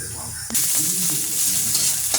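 Cabbage sautéing in a hot pan with onion, garlic and ginger, a steady close sizzle that jumps louder partway through as more goes in, with faint stirring scrapes.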